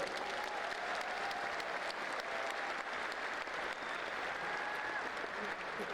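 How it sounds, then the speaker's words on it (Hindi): A stadium audience at the MI Utsav network marketing event claps for itself, a thick, even roar of applause from many hands that holds steady at full strength throughout. "अपने आप के लिए जोरदार ताली बजाइए।"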